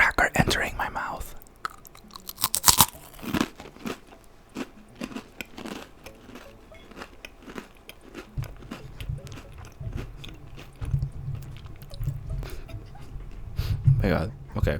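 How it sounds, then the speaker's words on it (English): A cracker being bitten and chewed close to the mouth, giving crisp crunches that settle into softer repeated chewing, with faint voices at times. "This is the sound of the cracker entering my mouth."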